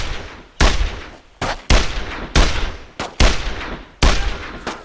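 Rapid bursts of World War II rifle and machine-gun fire in the shooter Brothers in Arms: Road to Hill 30, six or seven loud, sharp volleys at close range, each trailing off quickly, with no voices.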